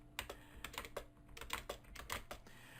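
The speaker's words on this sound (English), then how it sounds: "you just start typing" Quick, light clicks of a computer keyboard being typed on in uneven bursts, fairly close and quiet, with no talking.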